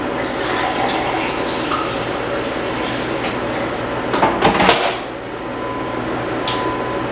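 Water runs indoors with a steady broadband rush that continues throughout, brief clinks and splashes near the end, then the flow carries on, close and fairly loud.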